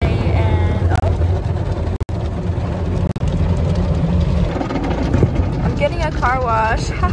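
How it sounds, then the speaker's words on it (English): An automatic car wash runs with a loud, continuous rush of spray and machinery rumble, and rising whirring tones swell near the end. "Car wash."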